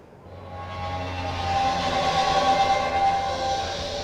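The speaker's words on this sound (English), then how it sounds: "So the reason it's making that noise is, in fact, it's an AC generator." A large AC generator with a 50-ton rotating flywheel braking, giving a steady, loud mechanical drone with a sustained whining tone that swells slightly and holds throughout, heard alone.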